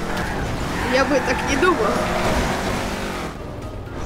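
A car drifts and revs in the Garry's Mod video game, a steady engine drone running beneath continuous talk for most of the clip and then fading near the end.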